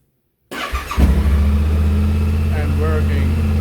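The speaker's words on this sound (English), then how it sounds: "So we will start it, the engine." A Yamaha Tenere 700 motorcycle, freshly fitted with NGK Iridium spark plugs, cranks briefly and fires up, then settles into a steady, close rumbling idle; a voice speaks faintly over the engine.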